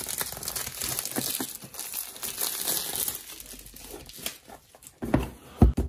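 Crinkling and tearing of plastic wrapping as a knife slices along an Oppo Reno 2 phone box and the wrap is peeled away, close and continuous with sharper rips near the end.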